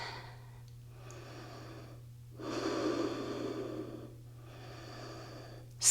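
Deep yoga breaths, close and audible: a slow inhale, a longer and louder exhale, then another breath, with a steady low hum underneath.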